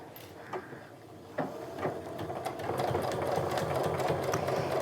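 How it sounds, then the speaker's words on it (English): A home sewing machine runs steadily while reinforcing the top stitches of a fabric sling bag, its motor hum and needle rattle rising and holding for several seconds after a few brief knocks at the start. "I'm going to go ahead and reinforce the stitches a little bit at the top."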